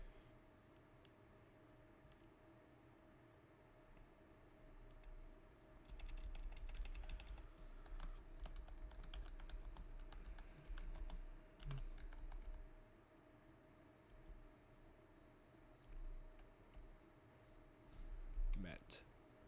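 A computer keyboard is typed on in bursts of quick clicking keystrokes that come close and moderately loud, with pauses between runs.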